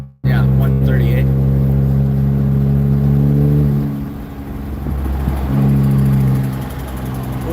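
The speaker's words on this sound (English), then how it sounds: "I hear those push rods loud and clear." A Corvette C6 engine runs with pushrods ticking, holding a steady, loud droning idle with a slight rise and dip partway through, while voices talk over it.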